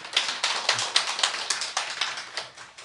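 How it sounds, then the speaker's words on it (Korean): Short burst of audience applause welcoming newcomers in a church service, quick sharp claps in an even patter, moderately distant and fading slightly toward the end. "우리 뜨거운 박수로 환영하겠습니다"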